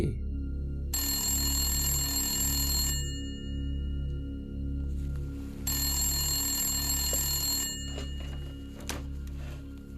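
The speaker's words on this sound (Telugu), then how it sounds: "ఇప్పుడు ఇంకొక రూమ్ నుంచి మళ్ళీ ఇంకో ఫోన్ రింగ్ అవుతోంది" An old telephone bell rings from another room in repeated bursts, each a bright metallic trill over a low pulsing hum, with short gaps between rings.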